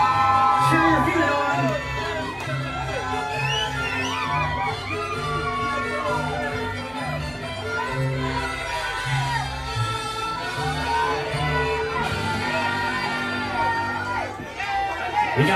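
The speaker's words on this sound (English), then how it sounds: "Come on, females, make some noise for Kelly, females" A crowd at a taco eating contest keeps up a steady roar of chatter, whoops and shouts for a lagging contestant, close and loud, with voices calling out throughout.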